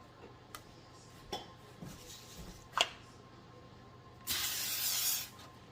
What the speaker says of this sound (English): We're going to give it a quick little spray.